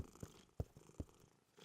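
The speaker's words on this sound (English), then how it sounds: "Mommy and Caillou heard a quiet meow." Cartoon cat giving soft, quiet purring pulses, three short low throbs spaced about every half second, faint and close with nothing else around.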